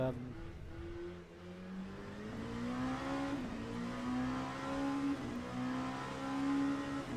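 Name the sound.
race car driving over curbs in video game Le Mans Ultimate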